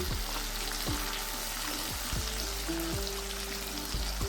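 A paste of ground ginger, green chili and cumin, loosened with a splash of water, frying in a pan. A dense, even sizzle sits under a regular beat of spatula scrapes about every half second, close and fairly quiet.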